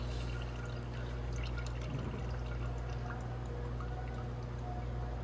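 Liquid drains from the engine pipe of a Venom X22gt 250cc, a faint continuous trickle and pour against a steady low hum, close by with no talking.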